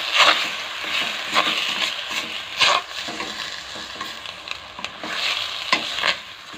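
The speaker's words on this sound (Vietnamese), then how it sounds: "mình cho cái phần bạch tuộc vào mình xào qua cho nó xe lại" Fresh octopus pieces stir-fried in a pan for bamboo-shoot soup: steady close sizzling with repeated scraping, clattering strokes of a utensil, loud and busy with no talk.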